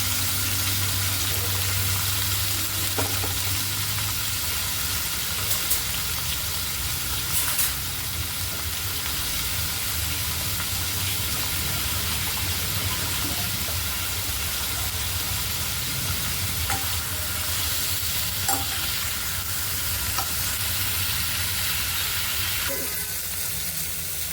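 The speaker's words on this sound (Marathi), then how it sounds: "आणि आता आपण कांदा भाजून घेणार आहे" Onion and tomato sizzle and fry in a pan for a surmai fish gravy, a steady hissing crackle with occasional stirring clinks, close and continuous.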